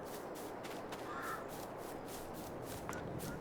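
Crows cawing in the video game Farming Simulator 22 near a farm orchard in spring, a few faint harsh caws over soft ambient background and light footsteps.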